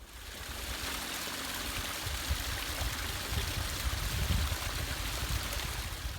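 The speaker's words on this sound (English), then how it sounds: "I can hear the lake" Water at Lonesome Lake on Kinsman Mountain, a steady trickling, streaming rush heard close and moderately loud, continuous across the whole stretch.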